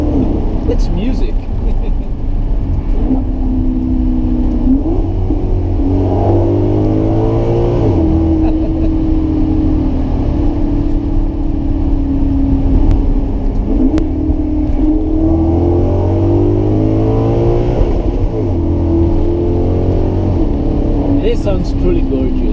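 A Maserati GranCabrio MC Stradale's 4.7-liter V8 revs and shifts down, its pitch climbing and dropping in repeated surges, loud and close, while someone talks over it.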